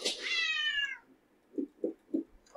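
A domestic cat lets out a single sustained meow close up, then a few soft, low, rhythmic chirps or thumps follow in the quiet.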